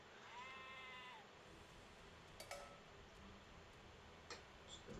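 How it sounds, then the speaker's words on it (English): Sheep in the Age of Empires video game give a short bleat at the start, then faint ticking game effects and small clicks follow, with no voices. "Finds the last two sheep."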